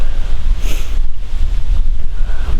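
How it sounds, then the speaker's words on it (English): Loud, roaring northwest wind with 20-mile-an-hour gusts buffets the microphone in continuous rumbling gusts, with a brief hiss of stronger gust near the start, at a Wisconsin bowhunting stand. "We got 20-mile-an-hour gusts, 8-mile-an-hour winds out of the northwest."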